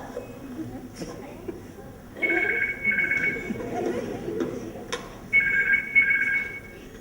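A telephone rings in two trilling bursts separated by a short gap, heard over murmuring voices and background noise.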